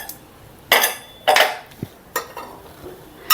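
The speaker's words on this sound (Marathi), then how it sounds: "आता कुकरसुद्धा मी इकडे दुसऱ्या बाजूला मी कुकर काढून घेते" A pressure cooker shifted aside on a kitchen counter, with several sharp metallic clanks and clinks of pots and vessels in quick irregular bursts, close by.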